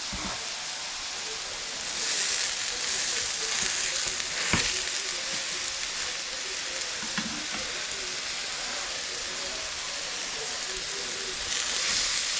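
Chopped home-butchered pork sizzles steadily in a hot pan, a continuous loud frying hiss with occasional stirring scrapes and clicks throughout.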